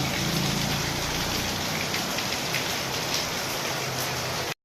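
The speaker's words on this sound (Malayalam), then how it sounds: "അപ്പോഴേക്കും നല്ല മഴ." Heavy morning rain pours down in a dense, even hiss that stays loud and unbroken throughout, with no voices.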